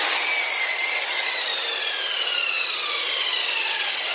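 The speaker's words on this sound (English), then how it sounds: "I'm just going to angle these two corners with the miter saw real quick." A miter saw cuts angled corners on a 2x4, giving one loud, continuous bright whine and grinding rasp that slowly drops in pitch as the blade works through the wood, with no talking.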